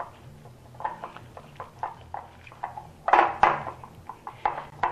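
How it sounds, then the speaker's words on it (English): Chocolate, boiling water and cocoa are whisked together in a bowl, producing a close run of soft, rhythmic taps and scrapes that grow louder midway, with no talk. "We're just going to whisk this until everything is incorporated."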